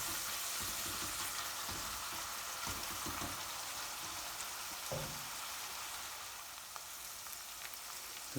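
Onions fry in a pan over medium to low heat for a chicken and pepper curry, a steady close sizzle with faint stirring scrapes and no talk.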